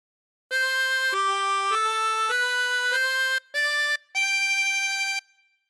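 Chromatic harmonica plays a short phrase of God Defend New Zealand as a run of sustained, clear reedy notes, mostly held and joined, with one brief gap near the end before the last long note fades out.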